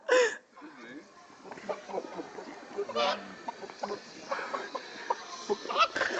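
A man imitates a chicken with a string of throaty, uneven clucks and squawks, close by, mixed with bursts of other voices talking and laughing.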